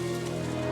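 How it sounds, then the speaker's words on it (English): Torrential overnight rain in Washington, D.C., a dense, steady hiss of heavy rainfall with no breaks, loud and constant throughout. "Throughout the night, there's been torrential rain in Washington, D.C."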